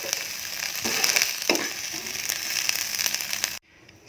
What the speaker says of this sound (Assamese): চয়াবিনখিনি ভাজি ল'লোঁ।